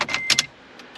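Metallic scraping and jingling of a key sliding in and out of a worn ignition cylinder on a second-generation Toyota Tacoma with about 134,000 miles, a few quick close clicks in the first half, then near silence.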